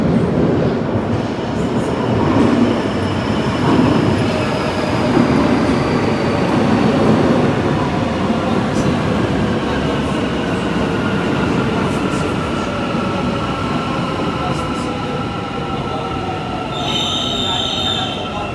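A train rolls along loudly with a steady rumbling roar and squealing wheels, ending with a few high electronic tones.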